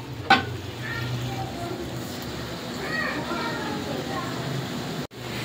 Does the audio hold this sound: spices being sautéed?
yes